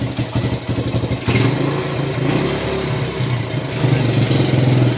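A Suzuki Thunder 125 motorcycle engine, started after years in storage, runs steadily nearby, a rough, pulsing putter that swells slightly louder toward the end.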